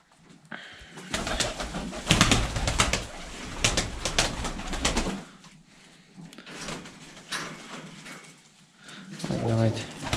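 Pigeons coo softly in the background while someone talks over them for most of the stretch; a few low throaty calls come through in pauses.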